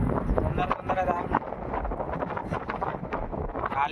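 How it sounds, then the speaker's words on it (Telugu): Wind gusting steadily over the microphone outdoors during a roadside stop on a trip, a loud continuous rumbling buffet, with a voice talking over it. "గాలి వస్తుంది, వర్షం వస్తుంది."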